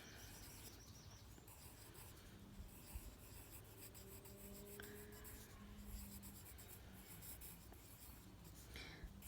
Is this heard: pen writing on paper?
yes